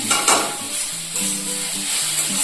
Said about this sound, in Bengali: লাল শাকের মধ্যে সব সবজি মিশিয়ে দিলাম